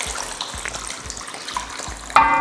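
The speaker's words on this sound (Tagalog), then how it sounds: "Ilalagay ko na itong chicken stock." Chicken stock is poured into a cooking pot for pancit bam-i, a steady watery splash and trickle running throughout, with a brighter sizzling burst near the end.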